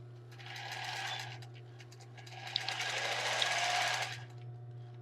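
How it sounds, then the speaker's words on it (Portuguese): A sewing machine stitches a tulle and lace bra, running in a steady close whirring buzz for a few seconds, with a brief slowdown before it speeds up again and then stops. "Vamos fazer um retrocesso somente aqui, no final dessa costura."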